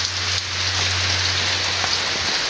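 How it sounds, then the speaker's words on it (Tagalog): Steady rain falls on a surface, a dense continuous hiss with scattered nearby drop impacts and a low constant hum underneath, with no voices. "So maulan kasi guys, yan oh."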